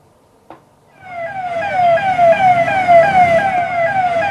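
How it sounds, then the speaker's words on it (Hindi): A police siren wails in repeated rising and falling sweeps, growing louder after a brief knock, with road rumble underneath. "सायरन बजाई चली पुलिस गाड़ी"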